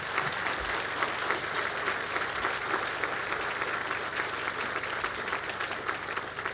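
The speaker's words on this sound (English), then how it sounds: "let's give them a round of applause" An audience applauds at a county mayor's budget address, with sustained, even clapping from many hands filling the whole stretch at moderate loudness.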